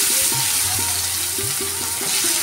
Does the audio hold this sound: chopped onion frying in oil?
yes